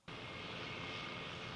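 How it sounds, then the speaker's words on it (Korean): A propeller airplane engine in an anime drones steadily and faintly throughout, a constant, even roar with no voices. "飛行機。"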